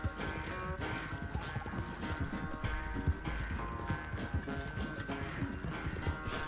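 In Red Dead Redemption 2, a horse gallops through a forest, its hooves beating a fast, continuous rhythm up close with a brief whinny, over a steady musical game score.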